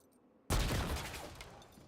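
Grenade exploding in a video game: a sudden loud close blast after a quiet moment, followed by a long rumbling decay with scattered crackle.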